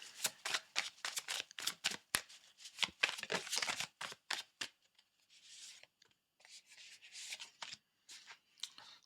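Tarot cards are shuffled with quick riffling flutters and crisp snaps, followed by quieter card slides and handling as a few cards are drawn. The sounds are close and clear, with no talk.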